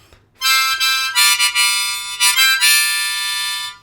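Harmonica played on the wrong hole: a bright, reedy line with sustained chords and brief breaks between breaths, sounding off-key and unfamiliar, close and fairly loud.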